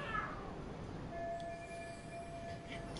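Cats fighting and screaming in the video game Lost Judgment, a drawn-out yowling caterwaul with wavering tonal cries over a low background rumble, fairly faint and with no talking.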